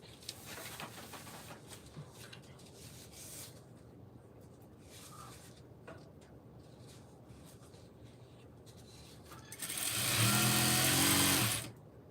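Sewing machine stitching ribbon and glitter together, running in one loud steady burst near the end after quieter rustling handling sounds.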